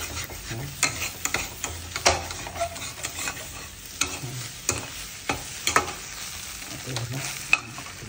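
Egg bhurji frying in a wok while being stirred, with a soft continuous sizzle broken by frequent scraping, clanking strokes of the spatula, close and without talk.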